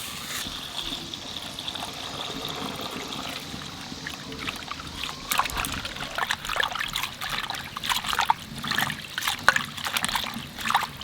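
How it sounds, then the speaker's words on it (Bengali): Water pours into a cooking pot of papaya and chilli for a village-style magur catfish curry, a steady trickling splash that grows louder and more broken partway through, with no talk. "এইবার জল দিয়ে দেবো"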